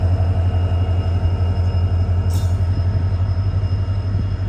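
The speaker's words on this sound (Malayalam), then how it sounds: "ഈ ഒരു ലോക്കോമോട്ടീവ് ഇവിടുന്ന് ഡിസ്പാച്ച് ചെയ്തു." Passenger locomotive pulling away from Chamarajanagar's dead-end station, a loud, close, steady low engine drone and rumble with a brief high squeal partway through.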